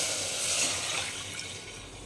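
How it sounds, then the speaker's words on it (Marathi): A bowlful of water is poured into a pan on a low gas flame holding turmeric and asafoetida, a steady close splashing rush that eases off toward the end. "मी ह्या वाटीने 1 वाटी पाणी टाकून घेते."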